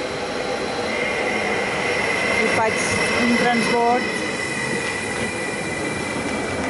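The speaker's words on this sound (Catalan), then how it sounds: "I ara arriba el tren" Steady loud rumble of a train arriving at a station, with brief wheel squeals as it comes in, and a person speaking briefly in Catalan over the noise.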